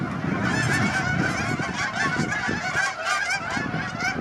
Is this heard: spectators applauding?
no